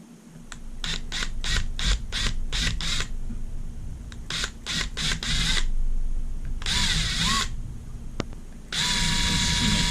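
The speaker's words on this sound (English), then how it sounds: "Holding that shell together with my fingers so it doesn't separate while I'm trying to drill that hole and get a nice round hole" Small drill boring a hole in a Game Boy Color plastic shell held together by hand, heard as short repeated whirring bursts in a quick series, then a couple of longer runs; close and fairly loud, no speech.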